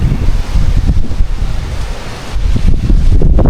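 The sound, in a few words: wind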